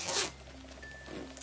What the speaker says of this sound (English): back here, you just unzip it,